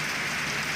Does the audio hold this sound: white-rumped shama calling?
no